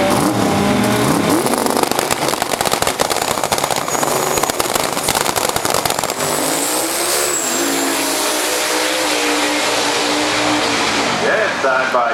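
A side-by-side drag race run between a Mustang and a Nissan, loud roaring engines at full throttle, close at first and then fading and thinning into a distant whine, with an announcer talking over it.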